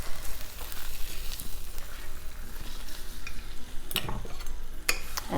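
Fish fillet for Fish Veracruz sizzling steadily in a hot frying pan, loud and close, with a few scraping clatters of a utensil as it is flipped partway through.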